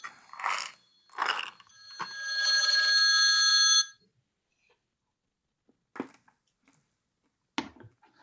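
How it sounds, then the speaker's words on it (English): A phone ringtone sounds for about two seconds as one steady tonal ring during live chess commentary at a San Francisco club tournament. It follows two short noisy bursts and gives way to near silence. "My phone's ringing."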